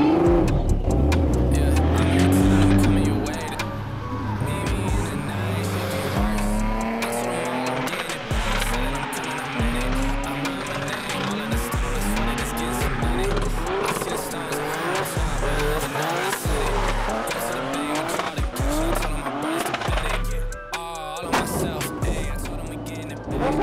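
A car drifts for a first time, its engine revving hard and rising and falling while tires squeal and skid almost without pause, loud and close, with voices occasionally heard over it.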